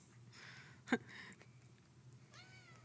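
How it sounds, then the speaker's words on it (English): A faint cat meow drifts in over low background hum, followed by a couple of soft, higher mews; quiet and somewhat distant. "you may occasionally hear some meows."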